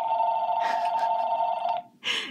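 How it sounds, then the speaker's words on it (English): A telephone rings with a steady electronic trill for almost two seconds, loud and close, followed by a short burst of noise after a brief pause. "maybe the phone ringing"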